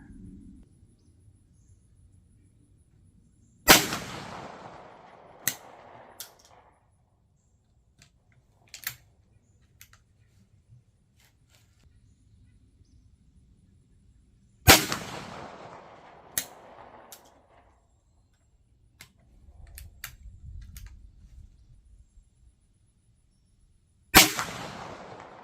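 A shotgun fires custom cast .410 slug handloads outdoors: three sharp, loud shots spaced about ten seconds apart, each with a short ringing tail and small clanks in between.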